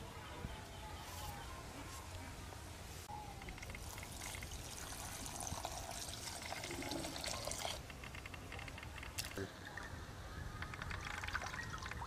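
Cut small fish, freshly caught from a marsh, being washed by hand in water outdoors in a village, with steady splashing, trickling and pouring close by and faint birds in the background.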